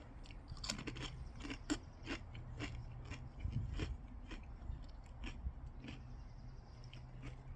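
Kettle Brand Special Sauce potato chips crunched close up, a steady run of sharp, crisp bites and chewing crackles with no talk.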